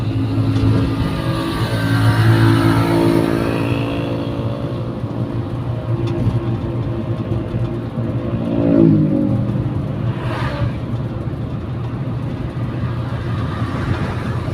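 A Toyota Kijang K4 with a carbureted engine runs at a constant 2100 rpm, giving a loud, steady drone with a gentle swell partway through.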